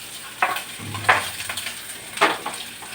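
Prawns fry in a pan with a soft, steady sizzle. Several sharp metallic scrapes of a utensil against the pan break through it at intervals.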